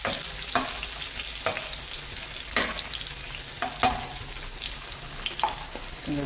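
Ginger and garlic sauté in hot oil for a Filipino pork rib stew, giving a steady close sizzle with a spatula scraping and stirring the pan every second or so, and no voices.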